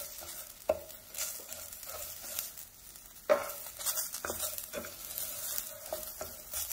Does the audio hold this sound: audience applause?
no